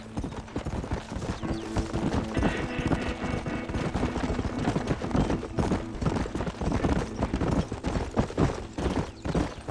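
Horse hooves clip-clop in a rapid, uneven rhythm in the Red Dead Redemption video game, with several horses trotting close by, moderately loud and continuous over a low rumble.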